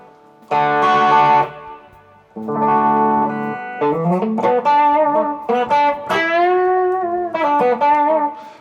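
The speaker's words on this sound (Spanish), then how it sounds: "Estoy oyendo este amplificador con el reverb de aquí, del multi-efectos" An electric guitar plays through an amplifier model with reverb from a multi-effects unit, delivering distorted sustained chords and bending single notes with a lingering tail, loud and close with no talking.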